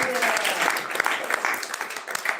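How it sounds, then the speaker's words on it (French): A church congregation applauds and cheers for the Lord during a worship service, a dense, steady wash of clapping from many hands that stays loud and unbroken throughout. "Est-ce qu'on peut acclamer le Seigneur?"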